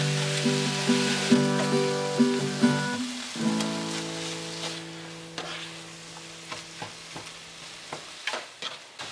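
Ground meat frying in a pan for enchiladas with mole sauce gives off a steady sizzle, broken by repeated scraping stirs, all under soft background music.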